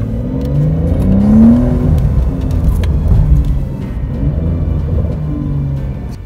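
A Porsche 911 Carrera S engine revs in a short throttle blip, a loud, close, rumbling growl that rises and falls over several seconds.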